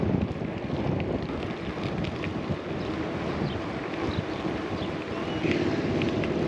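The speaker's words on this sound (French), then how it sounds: "Petite rafale devant de face." A head-on gust of wind buffets the microphone of a gravel bike rider near Fort de Peccais, a loud, steady roaring rush that swells slightly toward the end.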